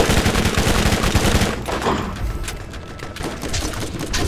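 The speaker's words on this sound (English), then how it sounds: "I'm gonna try to get a shot on someone." Rapid gunfire in the Borderlands video game, loud and close, with dense automatic bursts early on giving way to scattered heavier shots and thuds amid ongoing combat noise.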